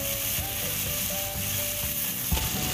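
Vegetables with chopped tomato and green chilli frying and being mixed in a pan, a steady close sizzle with soft scraping and stirring knocks, alone without speech.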